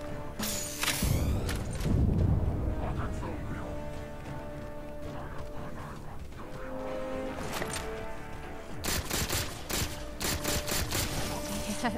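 Gunfire in the video game Halo 4, bursts of rapid shots and impacts over a continuous game soundscape, loud and close, with a player's voice talking at times.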